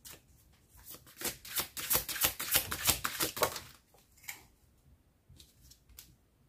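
Oracle cards being shuffled by hand in a quick run of crisp riffling flicks, followed by a few softer, sparser card slides as a card is drawn, close and clear.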